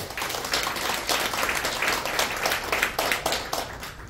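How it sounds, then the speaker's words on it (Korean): A room full of people gives a round of applause for a dancing presenter and environmental artist, moderate and fairly distant, with steady overlapping claps and no talking. "다시 한번 용기의 박수 한번 더 주십시오"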